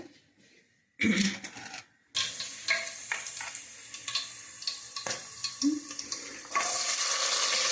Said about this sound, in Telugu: ఇప్పుడు ఇది బాగా నూనె కాగిన తర్వాత ఉల్లిపాయలు పచ్చిమిరపకాయలు టమాటాలు బాగా వేయించుకోవాలి ఇందులో వేసి